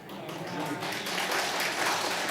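A church congregation at an early-morning Lent prayer service breaks into spontaneous clapping that swells from a thin start into a fuller, steady wash of applause, with faint voices mixed in.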